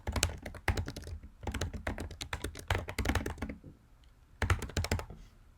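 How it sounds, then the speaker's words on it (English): Someone types on a computer keyboard into an open text field, with close, crisp key clicks in fast bursts separated by short pauses and no one speaking. "whatever we might want to type in here"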